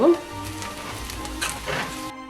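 Ground coriander and cumin paste sautéing in coconut oil in a clay pot, giving a soft, steady sizzle with faint stirring scrapes, close by and moderately quiet, cutting off abruptly near the end.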